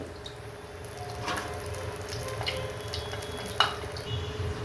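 Sesame and moong dal chekkalu fry in hot oil, giving a close, continuous bubbling sizzle with occasional crackles and one sharp pop, and no voices.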